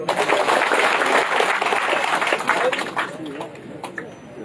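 An audience at a Jatiya Party nomination vote count in Rangpur breaks into a burst of clapping after a result is announced, loud at first and then thinning out.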